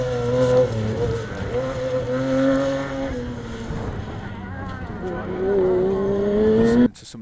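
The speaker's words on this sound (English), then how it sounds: "Listening to somebody thrash a 6-cylinder BMW engine." A 6-cylinder BMW engine revs hard and climbs through the gears, its pitch rising and falling as it passes, while a voice talks over it.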